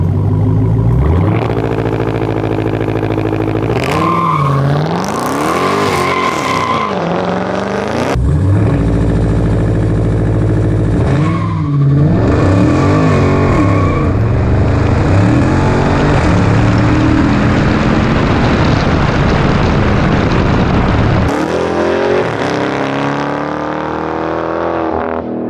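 A 750-horsepower Dodge Charger Hellcat on Falken tires launches repeatedly, its engine roaring loud and near as the wheels spin on pavement, with pitch sweeping up through gears in several hard bursts.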